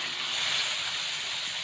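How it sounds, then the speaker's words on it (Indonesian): Chopped chicken liver and gizzard sizzling steadily in a hot pan with a broad, even hiss and no pauses. "setelah itu langsung kita masukkan potongan hati ampela"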